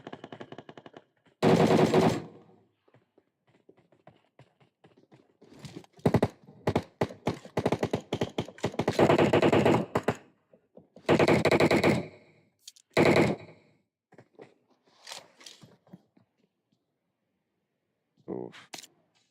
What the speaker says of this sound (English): sending on shots onto Kenny